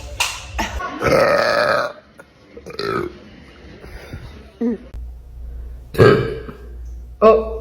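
A young woman lets out several loud, close burps, a long drawn-out one early and shorter ones later, with bits of talking between them.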